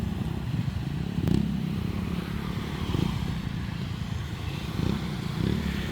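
Vehicle wheels spin in loose beach sand on a crowded beach roadway, a steady low engine roar with several brief surges as the tires churn and strain, heard close and continuous with no talk.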